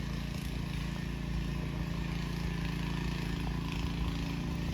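A tractor ploughs a field on a farm in the Konkan countryside, its engine giving off a steady, low droning rumble that holds at an even level from some distance away.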